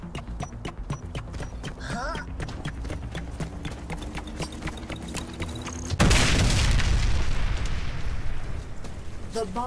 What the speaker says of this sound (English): The bomb exploded.